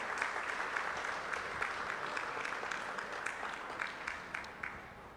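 An audience at a women's empowerment event in Guyana gives a sustained round of applause, a steady wash of many hands clapping, moderately distant, with a few sharper individual claps standing out toward the end.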